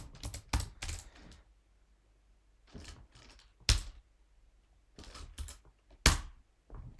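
Code typed on a computer keyboard in short bursts of clicky keystrokes separated by pauses, close but quiet, with no talking.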